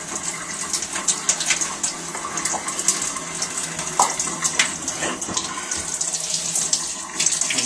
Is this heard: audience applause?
no